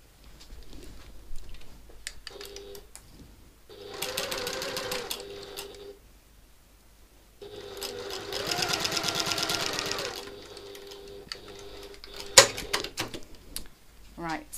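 A sewing machine stitches a seam on a satchel in two sustained runs of rapid mechanical whirring, separated by quieter pauses filled with handling noise and light clicks.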